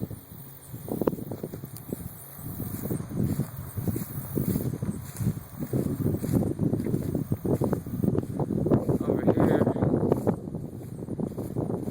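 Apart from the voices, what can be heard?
wind blowing outdoors by a pond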